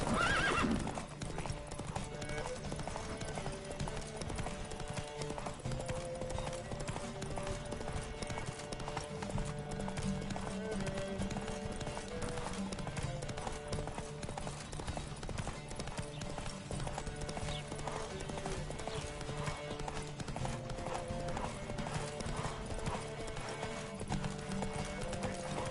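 Galloping horse in The Witcher 3, a steady rapid clip-clop of hooves running continuously and close throughout, with occasional whinnies over a constant background.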